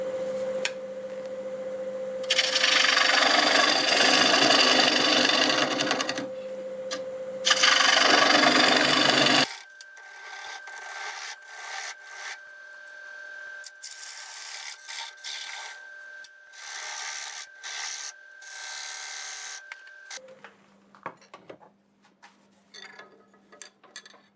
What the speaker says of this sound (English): let's go ahead and cut that recess in there